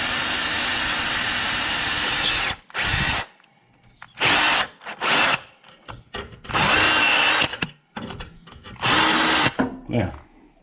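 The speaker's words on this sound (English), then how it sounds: "I'm going to drill another hole right here in the frame" A power drill bores a hole into the steel frame of a mower deck, whining in several short loud bursts separated by pauses, starting after a stretch of talk.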